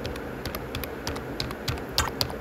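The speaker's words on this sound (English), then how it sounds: "Okay, we will write cucumber and click enter." Typing on a computer keyboard while entering the word cucumber and pressing enter in a coding exercise; scattered close key clicks at an irregular rhythm over a quiet room hum, with a few sharper presses near the end.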